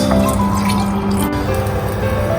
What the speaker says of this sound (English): Use the pan to add water. Make sure it's all submerged.